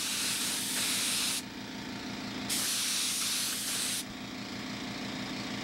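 Paint sprays from an airbrush onto a scale model in two distinct bursts of close, steady hissing, each about a second and a half long, separated by a quieter pause.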